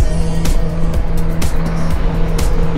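A truck moving along a four-lane downhill mountain road in Nueva Vizcaya, heard from inside a vehicle as a steady loud engine rumble and road roar with a few brief swells and no talking.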